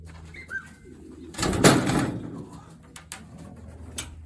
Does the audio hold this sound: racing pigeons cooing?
yes